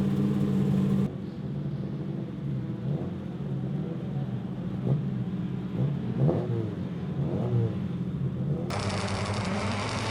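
Ford Escort and Volvo rallycross cars pull away together at the start of a Super Touring Cars Plus final in Lithuania, a steady loud engine rumble with rising revs under faint commentary.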